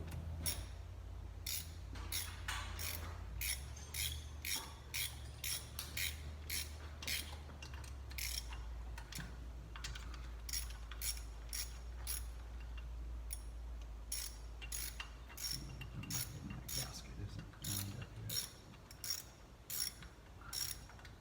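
A ratchet clicks in quick, regular bursts as it tightens bolts on a new radiator in a 1966 Chevy short-bed pickup. The clicks repeat steadily over a low, constant hum.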